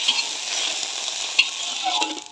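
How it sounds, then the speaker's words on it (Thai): Fresh market rice noodles for pad thai sizzle steadily in a pan with a little water while being stirred, a close, continuous frying hiss with occasional scrape clicks. "ผัดให้เส้นสลบนะคะ"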